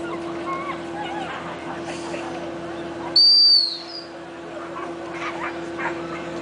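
A sharp dog training whistle blast, used to stop a spaniel (épagneul picard or springer) at a distance during a hunting dog demonstration, rings out once loud and near for about a second over steady outdoor background noise.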